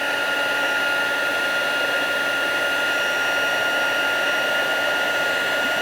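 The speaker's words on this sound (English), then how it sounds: "just heat emboss, heat that up with your gun." A heat gun blows a steady, even whooshing hum throughout while heat embossing powder on cardstock, close and continuous with no talking.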